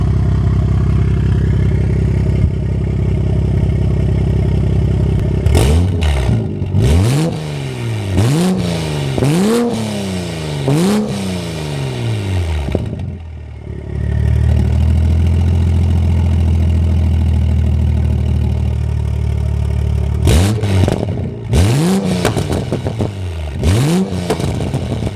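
Toyota A90 Supra fitted with a massive open downpipe and turndown exhaust tip, very loud and close: a rough idle, then a run of sharp repeated revs with crackling overrun, a pause at idle, and another burst of hard revving.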